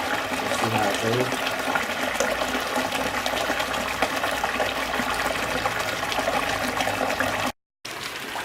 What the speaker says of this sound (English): I've got fresh water coming in.